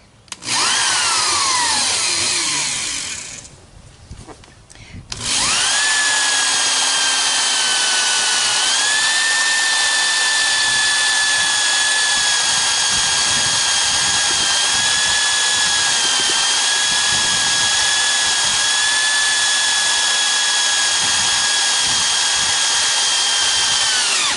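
An old power drill bores mount holes in an aluminum wheel, whining loudly and steadily up close, with a brief drop and pause early on before the drill resumes its continuous high-pitched grind.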